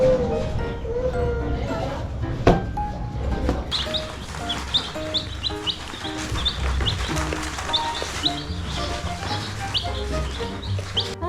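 Small brooding chicks chirp in a busy, continuous chatter of high peeps over a low steady hum, with a few louder clucking calls mixed in, close by and filling the whole stretch.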